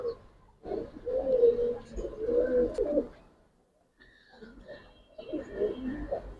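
Giribaz pigeons coo in low, warbling bursts close by, two longer phrases then a pause and another round, with faint higher chirps now and then.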